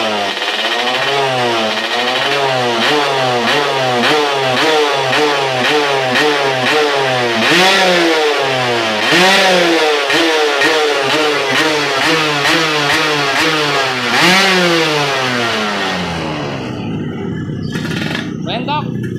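A Suzuki Satria 120 R two-stroke motorcycle engine, ported and tuned, held at high revs with a loud raspy buzzing wail that rises and falls in rapid pulses before dropping off near the end.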